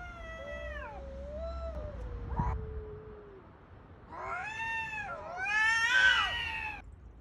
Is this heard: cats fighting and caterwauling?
yes